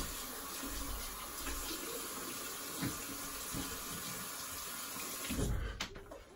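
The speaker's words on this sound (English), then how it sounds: "Just gonna rinse and explain later." Tap water runs steadily into a sink while a straight razor is rinsed, a constant close wash with a few brief knocks and splashes near the end.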